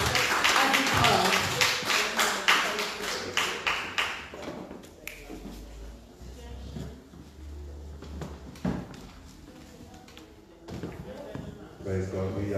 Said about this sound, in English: let's give our pastor a big hand